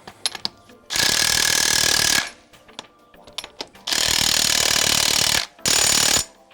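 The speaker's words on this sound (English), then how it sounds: "I've been stoked with this Craftsman impact wrench" A Craftsman impact wrench tightens lug nuts in three loud rattling bursts of hammering. Quiet clicks and handling noises fall between the bursts, and no one speaks.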